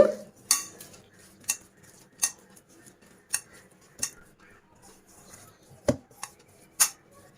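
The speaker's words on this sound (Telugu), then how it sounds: "ఇందులో తగినన్ని నీళ్ళని వేసుకొని మురుకుల పిండిలాగా కలుపుకోవాలి." Gram flour and water being stirred into a loose murukku-style batter in a bowl, with a utensil striking and scraping the bowl in sharp clinks every second or so, close up over a soft background hum, with no talking.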